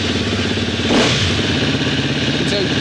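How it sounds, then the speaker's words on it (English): A dirt bike engine idles steadily after starting during an oil change, a continuous close mechanical putter with a brief rev swell near the start, and no clear talk over it. "I've got to start the engine."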